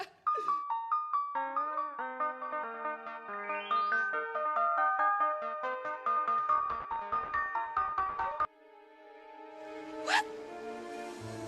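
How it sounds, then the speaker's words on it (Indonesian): A phone ringtone from an incoming call plays a bright, steady melodic tune of repeating tones for about eight seconds, then drops to a softer sustained tone with a brief sharp chirp near the end. "Ucok berani nge-reject telepon Dira."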